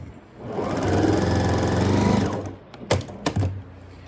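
A sewing machine stitches a fabric dart on a Baby Yoda mask, running steadily for about two seconds before slowing to a stop. A couple of sharp clicks follow, close and fairly loud.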